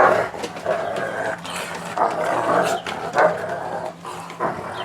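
Playful dogs, a brother and sister just out of a shower, roughhousing with repeated short growls, yips and huffs in uneven bursts, close and fairly loud.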